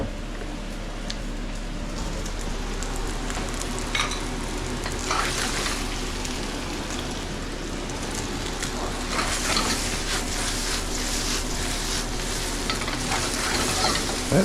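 Day-old pasta stir-fry sizzles steadily in a hot pan, a continuous close frying hiss with faint crackles and occasional stirring scrapes, no voices.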